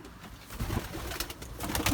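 Racing pigeons cooing and fluttering close by, soft throaty calls over a rustling background with a few wingbeats.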